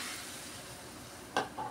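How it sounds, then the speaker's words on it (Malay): A glass of water poured into a hot cooking pot for mee suah soup with frozen vegetables gives a steady sizzling hiss, then a brief sharp splash near the end. "Ini saya tambah satu gelas ya air"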